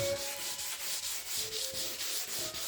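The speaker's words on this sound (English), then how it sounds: "So I'm just scuffing it up through the 4th coat." Varnished wooden floorboards are scuffed by hand sanding between coats, a close, steady rhythm of back-and-forth abrasive strokes.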